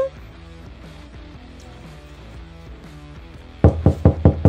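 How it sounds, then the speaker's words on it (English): Knocking on a door, about six sharp loud raps in quick succession near the end, after a stretch of soft background music. "So, Mini Brie, go ahead and knock on that door"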